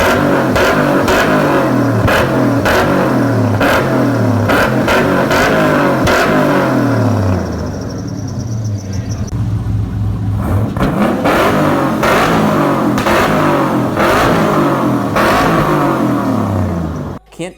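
The LS-swapped engine in a Dodge Charger, the Ice Charger, revs loud and close in repeated rhythmic blips, dips briefly, then climbs back into aggressive throttle bursts.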